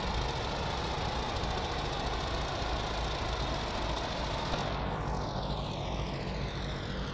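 Ship engines running in the video game Stormworks, a loud, constant droning rumble with a steady mechanical hum. Partway through, a sweeping tone passes over the drone.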